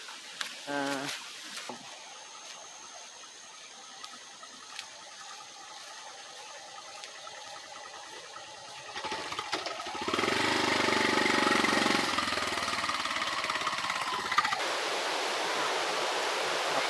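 The Raja Watunu Ella waterfall rushes in the distance as a steady broadband roar that swells for a few seconds partway through, then settles into a lower continuous wash, after faint sounds of movement along the path.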